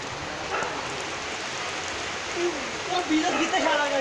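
Steady wash of heavy rain falling on a surface in a flooded riverside char village in Lakshmipur, Bangladesh, with a voice talking over it in the latter half.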